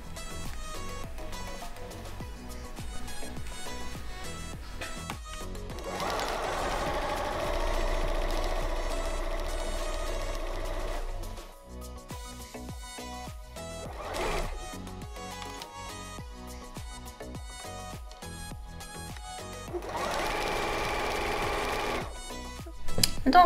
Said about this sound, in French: On va réaliser une couture au point droit tout autour.